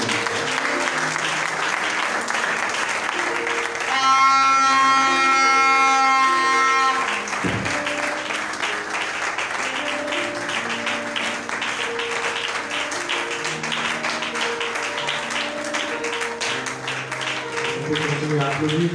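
Church congregation applauds praising the Lord, sustained clapping mixed with music or singing, tonal notes rising over the clapping in the middle, with voices present throughout.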